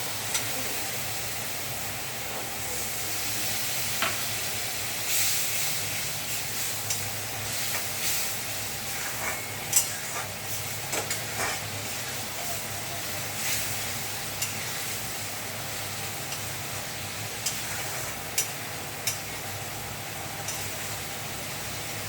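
Steady sizzling of spices frying in oil, with occasional scrapes and clicks of stirring, close and continuous.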